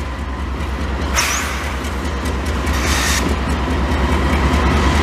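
A CP intermodal freight train backs up to take on cars, a loud steady rumble of diesel and rolling rail cars close by with occasional squeals and clanks, no voices.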